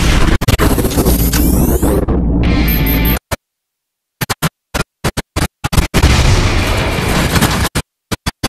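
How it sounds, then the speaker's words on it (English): Missile strikes in the space-combat game Rebel Galaxy Outlaw land as loud, harsh bursts of booming explosion and crackling noise, cut by abrupt silences and a rapid run of choppy blasts. "Missile inbound."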